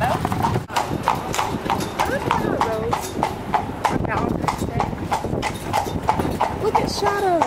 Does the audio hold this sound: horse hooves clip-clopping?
yes